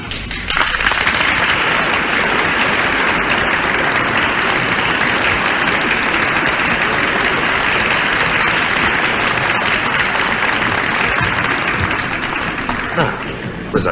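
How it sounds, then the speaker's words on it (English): Dense, sustained applause from a large audience, steady and loud for the whole stretch with no voices rising above it. "Listen to the audience applaud."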